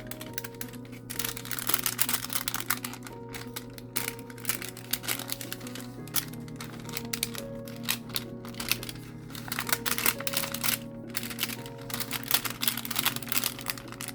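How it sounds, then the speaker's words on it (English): Sheets of old envelope paper are crumpled by hand in short, close crinkling bursts, with quiet rustling pauses between squeezes. "crumple the paper here and there like this."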